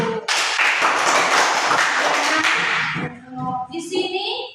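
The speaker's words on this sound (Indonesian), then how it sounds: "Tepuk tangan untuk semuanya dulu" A class of young primary-school pupils clapping together in a classroom: about three seconds of dense, loud applause that fades, followed by brief voices.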